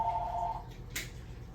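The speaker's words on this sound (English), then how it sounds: "Old school phone ringing here." An old-fashioned telephone rings briefly with a warbling electronic tone, then cuts off, followed by a soft click in a quiet room.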